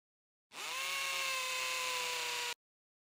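A power drill whirs steadily at a constant high pitch for about two seconds, starting and stopping abruptly, close and isolated.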